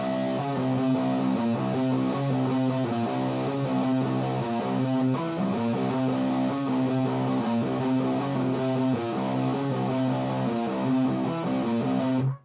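A repeating electric guitar riff played steadily and alone, notes moving up and down in a continuous pattern before stopping abruptly.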